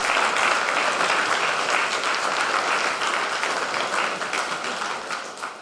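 Audience applause for a pensioners' choir at a retirees' choir gathering in Vuzenica, a dense, steady wash of many hands clapping that stays loud throughout and eases slightly toward the end.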